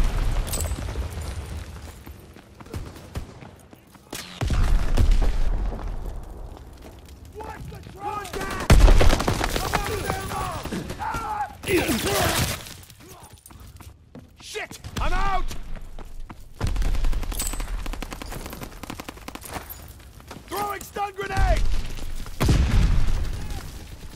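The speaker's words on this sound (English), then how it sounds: "Mortar fire incoming!" In the Call of Duty WW2 multiplayer battle at Aachen, mortar explosions boom heavily while bursts of rifle and machine-gun fire crackle between them, loud and irregular, with shouted voices in between.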